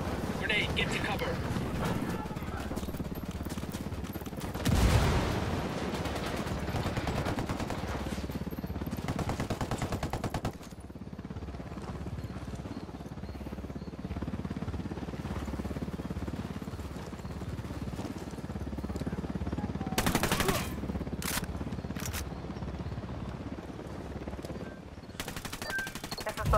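Gunfire in the video game Tom Clancy's Wildlands: bursts of automatic rifle fire and sharp shots, with a heavy blast, repeat over ongoing action noise, under voices speaking throughout.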